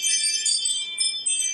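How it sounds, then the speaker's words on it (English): A Ring doorbell motion-sensor chime plays through a room, a bright ringing tone in several repeated bursts across under two seconds, fairly clear and without talk. "I have the Ring doorbell, so the motion sensor, and that was my Airbnb guest heading out."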